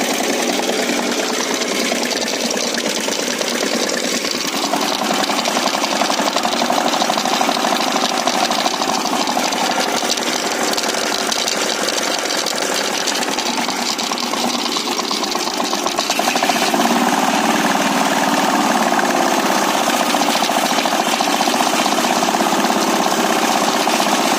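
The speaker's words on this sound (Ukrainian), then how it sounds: "Сейчас я перевів на бензин. Щоб показати, як робить генератор." A walk-behind tractor rigged as a generator runs steadily on petrol, its engine a loud, continuous mid-pitched drone with a rough, buzzing texture that holds unbroken throughout, with no talking.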